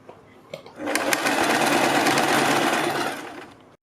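A sewing machine stitches a bias strip onto a kurti neckline, running in one steady, close whirring burst of a few seconds after a couple of faint clicks, with no talk over it.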